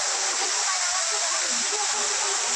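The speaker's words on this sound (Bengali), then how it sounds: "দেখুন কীভাবে জলটা পড়ছে।" Moti Jharna waterfall pouring down, a steady, dense rushing roar of falling water that fills the whole clip without a break.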